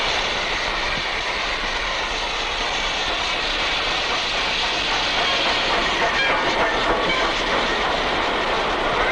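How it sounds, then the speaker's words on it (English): Loud, steady rumble and broadband roar of a train approaching, filling the whole clip with rising mechanical noise and no voices. "Hey, come on, here's the train!"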